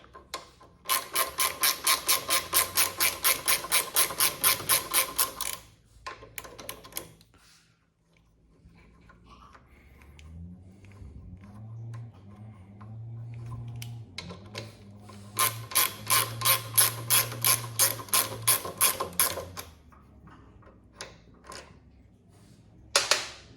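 Ratchet wrench removing 10 mm bolts from a Harley-Davidson CVO motorcycle, two loud bursts of rapid regular clicking separated by a quieter stretch of handling noise, close up.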